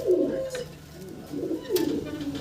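A fancy pigeon with handsome markings coos in a few low, rolling phrases close by, while it scurries about restlessly and faint background noise sits underneath.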